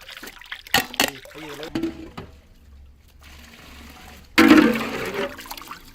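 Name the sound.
pouring strained watermelon juice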